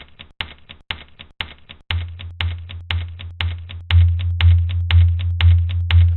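A sand sample that sounds like a typewriter: sharp, evenly spaced clicks like typebars striking, alone at first, then joined by a deep pulsing low tone repeating under each click.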